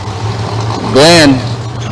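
A blown split window Corvette race car idles with a steady low rumble at an outlaw drag racing event in London, Kentucky, while an announcer talks loudly over it and a brief rising, wavering tone cuts through midway.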